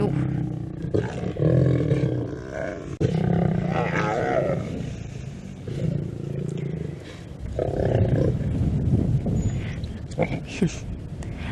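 Lions and lionesses growl and roar over a buffalo carcass on a sunset safari drive, a loud, continuous run of deep rumbling growls and roars rising and falling in overlapping bursts, close and steady throughout.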